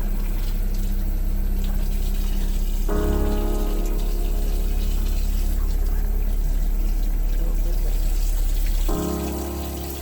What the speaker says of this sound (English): Rinse it under the water.